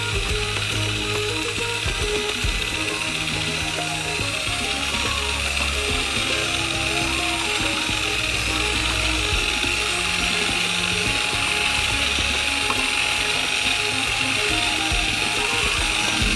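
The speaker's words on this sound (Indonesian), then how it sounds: "sambil mencampurnya dengan mixer." An electric mixer beats ice cream batter for a giant Snickers ice cream while the mixture is poured in gradually, giving a steady, close, continuous mechanical whirr with a fine rattling texture that runs unbroken from start to finish.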